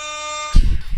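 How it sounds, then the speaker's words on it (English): A loud, steady, brassy air horn sound effect blares up close and cuts off abruptly into a thump and some muffled noise. "The damn air horn"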